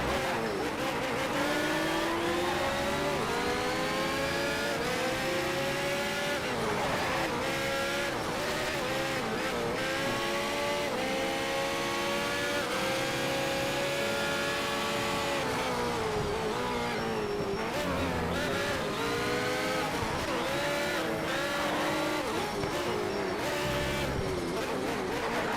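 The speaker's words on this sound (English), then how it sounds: "I don't like hearing an engine that is not mine." A racing car engine in the video game Need for Speed Shift 2 roars and revs continuously, pitch climbing and dropping through gear changes. The sound is loud and steady throughout.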